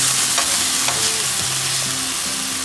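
Fish frying in a pan, turned over to cook its other side, sizzles steadily and close, with a continuous hiss and a few brief stirring scrapes and tonal clinks.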